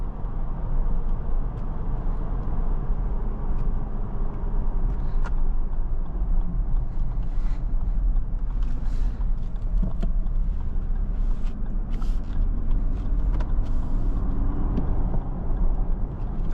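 A 2025 Lexus LX 700h F Sport on a test drive, its steady low road and engine rumble running continuously with faint intermittent clicks and ticks from the cabin.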